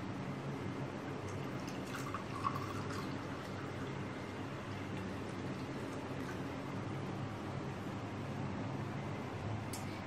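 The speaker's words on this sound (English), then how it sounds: "Now start pouring slowly." Steady gurgling and trickling of liquid poured from a jug into a glass, continuous and even in level throughout, close by and without speech.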